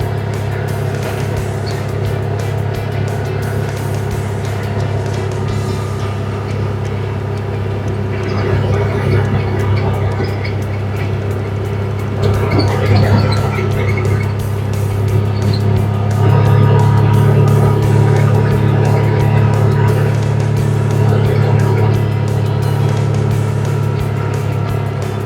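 A Gator utility vehicle driving across a cross country course, its engine a steady loud drone with a low rumble that swells slightly partway through.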